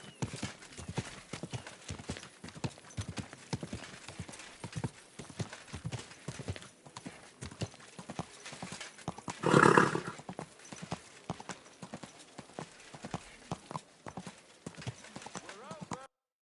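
Steady clip-clop of horse hooves at a walking pace in the video game Kingdom Come: Deliverance II, with a brief louder burst partway through that sounds like a whinny.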